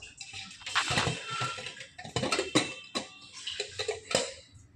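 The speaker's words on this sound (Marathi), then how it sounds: "आपण आता कुकर पण उघडूया" Metal clinks and clatters come from a pressure cooker lid and utensils as the cooker is opened after cooking moong dal, sharp irregular knocks close by over a few seconds.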